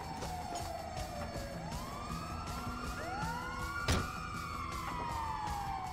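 An ambulance siren in the video game GTA 5 wails, sweeping up and down in pitch, moderately distant, with a sharp bang partway through and faint traffic rumble beneath.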